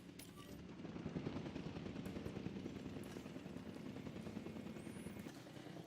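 A helicopter in the video game Jurassic World Evolution 2 drones steadily with a rapid rotor chop, a faint continuous thrumming with no talk over it.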